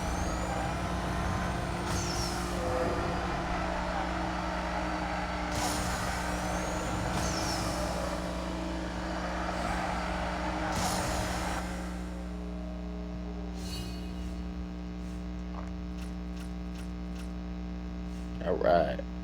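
Racing car engine in the video game Need for Speed No Limits, a continuous revving drone with repeated whooshing surges that settles into a quieter hum, with a voice talking over it.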